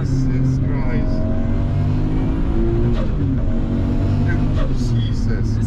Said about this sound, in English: You hear the intake, you hear the motor